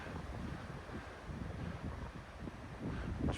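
Strong wind buffeting the microphone out on the Heysen Trail in South Australia, a steady rumbling roar with gusty surges throughout.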